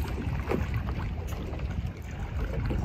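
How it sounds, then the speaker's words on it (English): A board paddled across open water by someone kneeling on it, with steady wash and splashing from the paddle strokes under continuous wind buffeting on the microphone. "So I'm going to go ahead and start paddling so you can see how this works a little bit."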